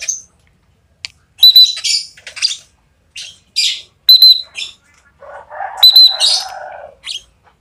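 A lovebird being trained for free flight gives loud, close squawks and shrill chirps. The calls come in irregular bursts separated by brief silences.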